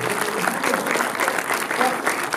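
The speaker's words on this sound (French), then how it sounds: "Applaudissements encore une fois, s'il vous plaît" Steady applause from a crowd at a French film festival awards ceremony, dense clapping filling the whole stretch at a fairly loud, even level.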